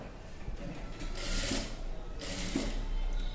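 A sewing machine stitches around the neck of a maggam work blouse with a steady, close whirr, swelling briefly in a couple of faster runs.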